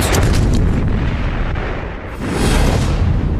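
Giant coastal cannons of the Todt battery on the Channel coast firing in 1940 trials, heavy rumbling booms filling the whole span, dipping briefly before another loud roaring blast swells back.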